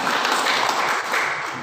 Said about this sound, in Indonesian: Tepuk tangan boleh.